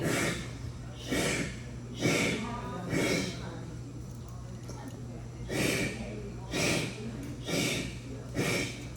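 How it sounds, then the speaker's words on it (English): Heavy, rhythmic breathing repeats in forceful huffs about once a second, close up, with short pauses between sets of breaths, during a Tabata workout in a seniors' strength class. "I love hearing the breathing."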